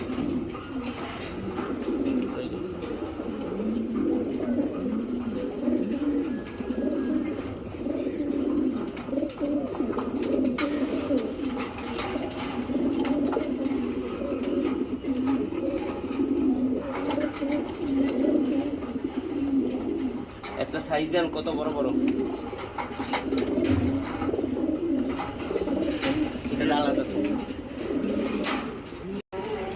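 Giribaz racing pigeons from a club loft keep up a continuous low, burbling coo at close range, with occasional wing rustles and someone speaking now and then over the birds.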